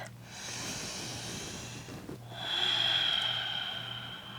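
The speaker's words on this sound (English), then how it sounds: "Take one more deep breath." Two deep, close breaths taken during a yoga stretch for sciatica relief, a long airy inhale followed by a louder, fuller exhale over a faint steady hum.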